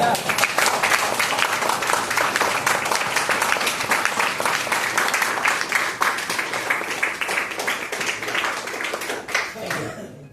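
A seminar audience in Bahraich breaks into sustained, dense applause, with many hands clapping steadily for about ten seconds before it tapers off at the end.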